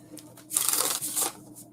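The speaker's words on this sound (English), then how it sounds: "Let me shuffle my cards really good." Tarot cards being shuffled by hand, with a close papery riffle and rustle that swells in two bursts over a quiet room background.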